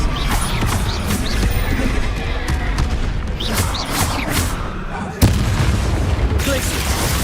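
Spells cast in the Hogwarts Legacy video game make a dense, loud barrage of whooshes, booms and crackling magical blasts, with a sharp impact near the end, while a voice speaks over the effects.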